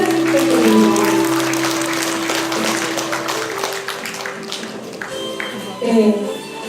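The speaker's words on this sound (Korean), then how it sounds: "큰 박수 부탁드립니다" Applause from an audience at a Korean social contribution program briefing and results report, with dense clapping that continues steadily for several seconds. A tonal background and some voices sit underneath it, and the sound swells again near the end.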